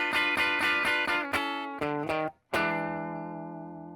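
Electric guitar with overdrive plays a blues intro in A, a run of quick picked notes stepping chromatically downward before a final chord rings out and fades, loud and alone.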